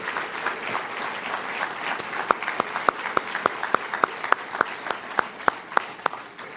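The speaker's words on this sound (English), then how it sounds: "how about one more round of applause for this elite group" Applause at a Shawnee High School athletic hall of fame induction ceremony, a steady crowd clapping with sharp individual claps standing out, heard from a moderate distance.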